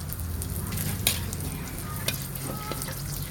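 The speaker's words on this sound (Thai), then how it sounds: "เราก็เอามะเขือลงไปคั่วก่อน" Eggplant is stir-fried in a pan, giving a steady, close sizzle and crackle broken by occasional scrapes and clinks of a utensil stirring.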